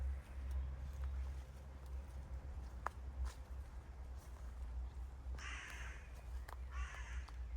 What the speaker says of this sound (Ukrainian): Послухайте, як голосно кричать ворони, ніби стежать за кожним нашим кроком.